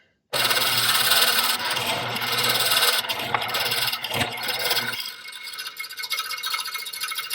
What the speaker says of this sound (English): Now we're going to mortise the legs.